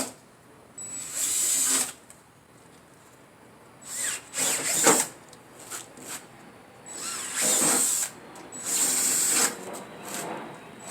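A power drill fitted with a 1/4 inch bit bores a hole during a 1997 Tahoe snorkel install. The motor whines loudly in several bursts of one to two seconds with short pauses between them, close and with no talk.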